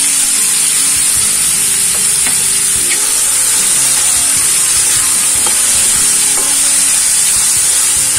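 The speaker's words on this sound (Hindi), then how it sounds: "तेल टिके गरम हे गला परे आमे छतु को भाजि नबा।" Mushrooms fry steadily in hot oil for a mushroom masala curry, giving a loud, continuous sizzle with occasional stirring clicks and no voices.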